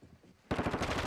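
Automatic gunfire in the video game Warzone starts abruptly after a quiet moment, a loud, rapid burst of shots that keeps going to the end.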